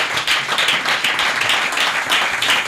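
A church congregation applauds during an anniversary service, dense steady clapping from many hands filling the room.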